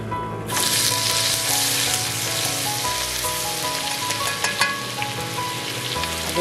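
Crushed garlic hits hot oil in a pan for a creamy Tuscan salmon dish: a sudden loud burst of sizzling that holds as a dense, continuous crackle close by, with occasional utensil taps and no voices.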